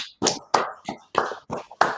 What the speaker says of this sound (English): Let's clap it up. Clap it up.